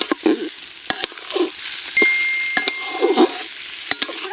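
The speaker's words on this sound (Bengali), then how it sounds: "চালটা এবার এই পেঁয়াজের সাথে একটু ভালো করে ভেজে নেব।" Washed rice frying with onions in oil for chicken tehari gives a steady close sizzle, broken by several sharp spatula scrapes and clinks against the pan as it is stirred.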